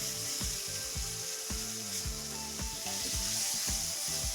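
Chicken pieces fry and sizzle steadily in a hot pan, with a bright continuous hiss and repeated scraping, knocking strokes as they are turned and shuffled around.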